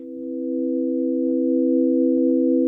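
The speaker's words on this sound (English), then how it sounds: "So all I have going now is this sine wave" A pure sine-wave tone from the Absynth 6 synthesizer holds steady for under three seconds, swelling gently at the start and then sustaining alone, with a faint second tone layered alongside.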